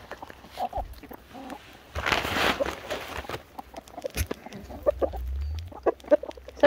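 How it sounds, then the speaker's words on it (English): Several chickens cluck close by in short, scattered bursts, with some rustling and shuffling around them. "Somebody's clucking."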